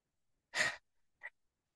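A voice imitates panting, out-of-breath breathing in an Arabic pronunciation lesson: one strong breathy exhale followed by a shorter, softer puff, close and isolated against silence.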